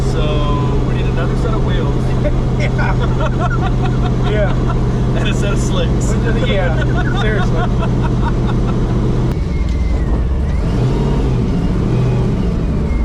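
A twin-turbo 1500hp Chevrolet S10 truck engine rumbles and revs loudly up close, a deep sustained roar that shifts pitch near the end, with people talking over it.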